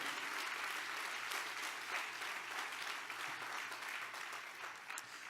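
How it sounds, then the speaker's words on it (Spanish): A church congregation applauding during a service, a continuous, even wash of many hands clapping, fairly distant and soft, sustained for several seconds. "Dele el mejor de sus aplausos al Señor"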